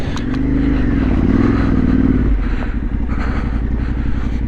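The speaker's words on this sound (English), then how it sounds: "I'm actually going to leave that bike running." An ADV motorcycle idles steadily on a chewy section of a trail ride, its loud, close engine note holding throughout with a brief rise in pitch early on and no talk over it.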